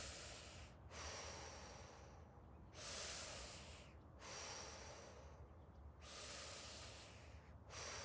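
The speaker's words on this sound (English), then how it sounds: "let's breathe in through the mouth" Slow, deep breaths drawn in and let out through the mouth during a guided movement exercise, three long airy inhalations with short pauses between, close and steady with no talking.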